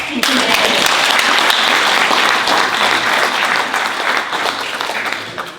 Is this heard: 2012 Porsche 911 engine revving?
no